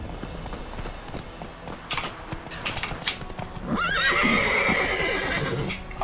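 In The Witcher 3, hooves clip-clop steadily at first, then a horse lets out a loud, drawn-out neigh near the end.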